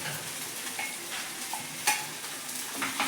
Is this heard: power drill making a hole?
no